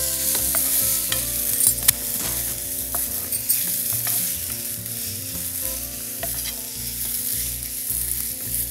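Onions sauté in a pan for beef curry, sizzling steadily and close, with rhythmic scraping stirs throughout and no voices.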